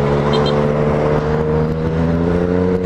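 A Yamaha MT-09 motorcycle fitted with a non-original aftermarket exhaust holds a loud, steady engine drone throughout, close by and without pause.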